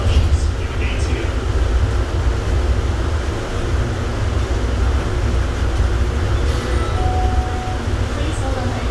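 An automated airport people-mover train at Atlanta airport rumbles and hums as it slows, a steady low vehicle drone with faint mechanical whines and a recorded announcement voice over it.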